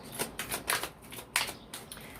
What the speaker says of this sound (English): I will shuffle until I'm told not to, unless it jumps out